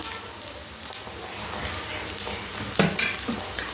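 A spoonful of garlic paste sizzles in hot oil in a pan for a tilapia curry, a steady close hiss with a few light stirring clicks and no voices.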